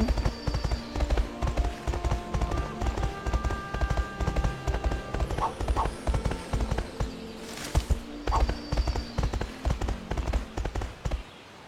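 Rhythmic clip-clop of horse hooves trotting close by in the video game Grand Galop, steady and continuous, with a brief higher jingle midway.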